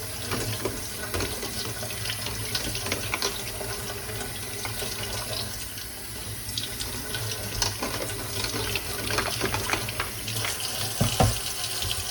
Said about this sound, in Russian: Давай помой этот клубнику.